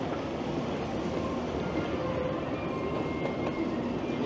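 An airport rail link train heading into the city rumbles steadily throughout, a continuous mid-level roar of wheels and carriage noise with faint rhythmic clicks and no talking.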